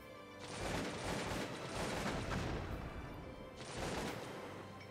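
Rapid gunfire and explosions in the video game Cossacks 2 form a dense, noisy clatter of crackling shots in two bursts, fairly quiet, with no speech.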